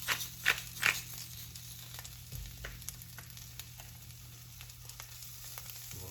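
Brussels sprouts fry in a pan with a soft, steady sizzle, a few sharper crackles and taps near the start, then a quieter even hiss.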